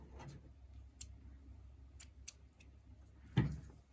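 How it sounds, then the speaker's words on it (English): Scissors cut through crochet yarn at the end of a row, giving a few brief, quiet snips spread over a few seconds, with a slightly louder snip near the end and no talking. "you're going to go on ahead and cut your yarn"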